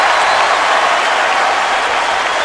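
A big stadium crowd at an NFL game roars in a steady, dense wall of cheering and applause after a quarterback is sacked.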